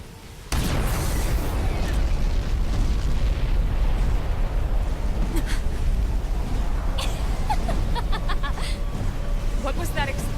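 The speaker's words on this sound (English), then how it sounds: "What was that explosion?" An explosion in a Xenoblade X cutscene, where aliens smash into a hangar: a sudden heavy boom followed by a sustained rumbling roar, with scattered crackles and bursts under continuous dramatic background sound.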